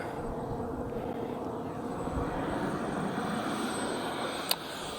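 Twin Krill Ares RC jet engines spooling up for takeoff, a steady broad roaring whine holding at a constant level, heard from nearby outdoors with a brief click near the end.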